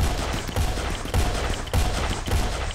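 Rapid gunfire crackles through a Rimworld battle with a Warhammer 40k modpack, dense bursts of shots layered in near-constant bursts with sharper volleys every half second or so, loud and without talk.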